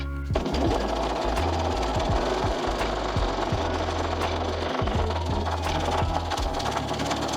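Sewing machine stitching the center front of a dress to the side front with a 1 cm seam, a loud continuous mechanical whir with rapid needle rhythm running throughout.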